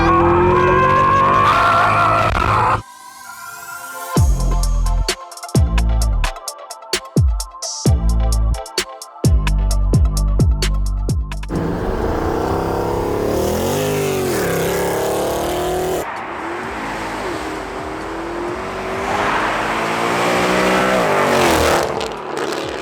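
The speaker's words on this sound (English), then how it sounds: "I'm gonna leave you guys with some glorious M156 engine drive-by sounds." A Mercedes C63 AMG with the M156 V8 engine driving by, loud deep revving and throttle blips, sharp gear-change bursts, then a sustained roaring pass that swells and fades, with no talk.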